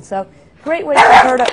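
A dog gives a short yip and then a longer whining bark to announce that someone has arrived, with a person talking over it at close range.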